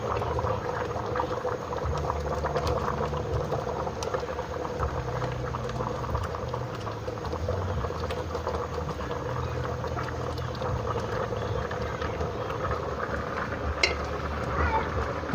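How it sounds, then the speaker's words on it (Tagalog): Rice boiling in a pot on a home stove, a steady bubbling patter with a low rumbling simmer running continuously, close and fairly even throughout, with no talking. "Kahit kumukulo na yung sinain ko."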